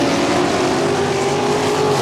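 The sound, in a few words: 360 sprint cars racing at Ohsweken Speedway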